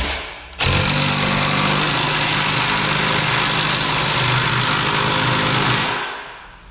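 An electric motorcycle jack set on the frame rails whirs steadily as it raises a 2014-or-newer bike until the rear tire clears the ground, a loud even motor drone starting abruptly and running about five seconds before winding down.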